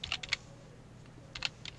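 Quick clicky keystrokes on a computer keyboard in two short bursts separated by a pause, close and crisp over a faint background hum.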